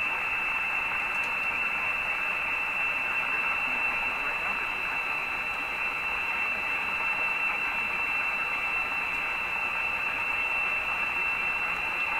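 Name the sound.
AM radio station faintly received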